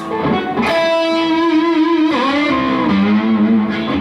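A Suhr electric guitar plays a sustained, overdriven distorted note that bends and slides down in pitch, loud and rich with harmonics.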